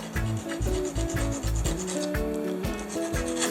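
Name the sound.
filing the threads of a broken bolt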